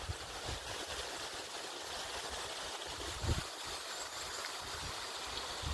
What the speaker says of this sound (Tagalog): Tapos may falls doon. Ayan. Galing. Ay, lumalakas na yung tubig.